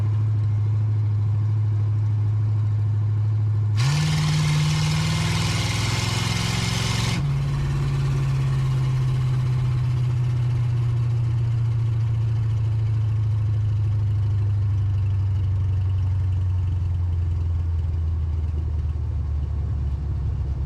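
A 1980 Camaro's engine runs steadily in second gear, loud and close, with a brief surge of revving roar around a third of the way through before settling back into a droning hum that slowly drops in pitch.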